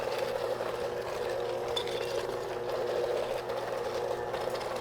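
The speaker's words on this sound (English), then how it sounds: "So I'm just continuing to use my mixer and mixing it all together." Electric mixer beating cheese Krispies dough in a bowl, a steady, close whirring motor hum running without pause, with faint clinks of the beaters against the bowl.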